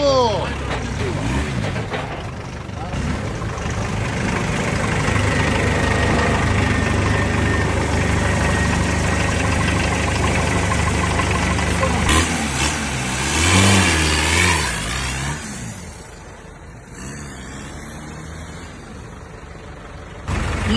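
A buggy's engine revving hard and holding a high, throbbing pitch before dropping back toward idle, loud and close, with a voice speaking over it.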